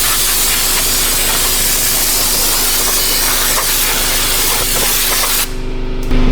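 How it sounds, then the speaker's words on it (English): Brake cleaner sprays from an aerosol can in one long, loud, steady hiss that runs several seconds and then cuts off abruptly, during work on a stuck Subaru rear wheel bearing. "Let me get some brake clean."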